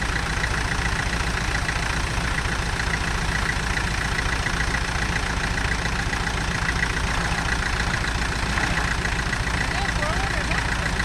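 An IH B275 tractor engine idles steadily with the PTO engaged, a loud continuous low rumble close by that holds for the whole stretch.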